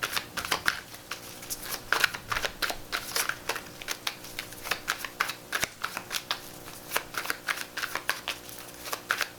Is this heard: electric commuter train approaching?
no